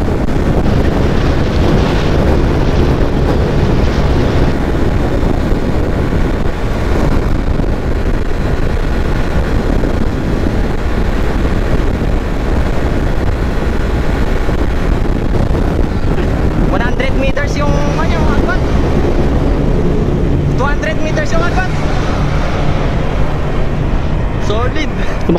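A Honda Click 125i motor scooter runs flat out at top speed, producing a steady, loud drone buried in heavy wind buffeting on the microphone throughout, with someone talking over it.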